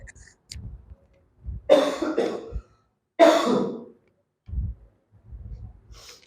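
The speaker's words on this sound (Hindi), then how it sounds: "खांसी अब भी नहीं गई है फिर भी।" Two harsh, hacking coughs break out close by amid quieter breaths and low throat sounds, separated by a short pause.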